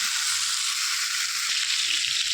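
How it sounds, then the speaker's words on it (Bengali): Pointed gourd and potato frying in oil with salt and turmeric, giving a steady, even sizzling hiss throughout with one faint tap partway through. "পটল চিংড়ি করার জন্য আমি পটল আর আলুটা ভালো করে লাল লাল করে ভেজে নেবো"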